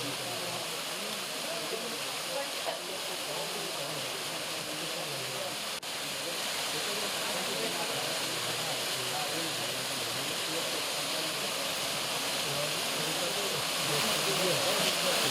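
Waterfall in Anekal pouring after heavy monsoon rain, a continuous broad rushing roar that holds steady throughout, with a voice talking over it.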